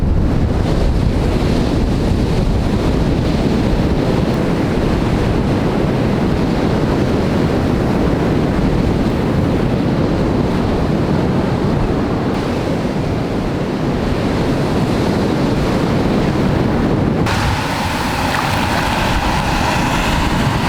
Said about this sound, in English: let's have a dip here in the beautiful Caribbean Sea